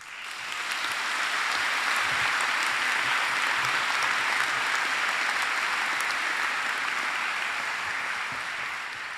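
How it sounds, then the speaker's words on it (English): Applause from an audience at a university graduation ceremony, a dense, sustained wash of clapping that swells in and holds steady for about nine seconds before easing slightly, large crowd, no talking over it. "I think they deserve a round of applause"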